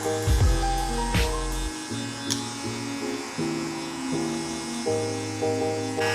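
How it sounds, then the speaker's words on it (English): Electric hair clippers buzz steadily up close during a fade haircut, their pitch wavering as the blade works through hair, with a few brief knocks and no voices. "you should be able to hear if the clipper is cutting"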